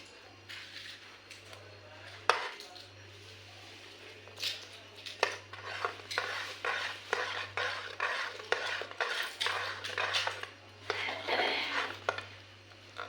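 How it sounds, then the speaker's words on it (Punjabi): Dry fruit custard stirred with a spoon in a pot, scraping and clinking in steady uneven strokes close by, over a constant low hum. "ਇਹਨੂੰ ਆਪਾਂ ਹਲਾਈ ਜਾਵਾਂਗੇ ਤਾਂ ਜੋ ਉੱਤੇ ਨੂੰ ਮਲਾਈ ਨਾ ਆ ਜਾਏ"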